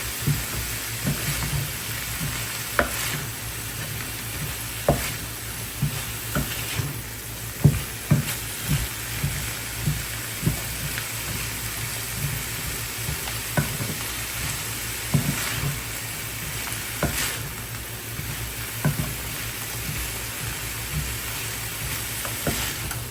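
Carrot stir-fried with fried rice sizzles steadily in a hot pan, a continuous close hiss broken by frequent light clinks and scrapes of tossing and stirring, with no talk.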